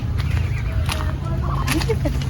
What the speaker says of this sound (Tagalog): Bibi! Ayan, mga bibi ni Mami.